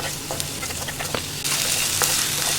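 Vegetables sautéed in a pan over a high flame give a steady, close sizzle with light stirring clicks, and the frying grows louder and hissier about halfway through. No one speaks.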